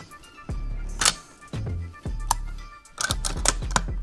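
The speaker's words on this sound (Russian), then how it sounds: "у нас оружие встает на затворную задержку" A Russian SVCh sniper rifle's bolt locks back on its bolt catch, heard as a series of sharp metallic clicks and clacks handled up close, several distinct snaps over a few seconds.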